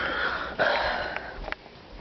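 A dog sniffs at a hot dog in short nasal snuffs, a few quick close bursts against a quiet background.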